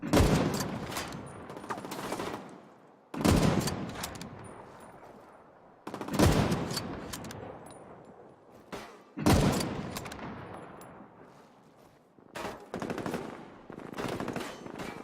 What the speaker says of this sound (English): Switch up to the hunting rifle. Some headshots in.